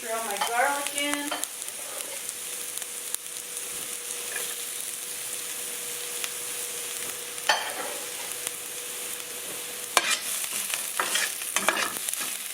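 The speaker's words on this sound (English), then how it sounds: "I'm going to go ahead and throw my garlic in." Garlic frying in a pan and being stirred, with a steady sizzle throughout, scraping stir strokes at the start and occasional utensil clinks, without any talking.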